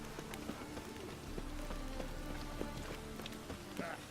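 Steady rain falls in The Witcher 3: Wild Hunt within a fishing town, a constant hiss with scattered drip taps and faint footsteps, alongside game music.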